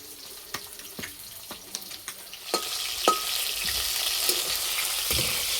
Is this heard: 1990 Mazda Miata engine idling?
no